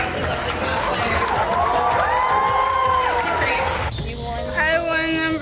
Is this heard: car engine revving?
no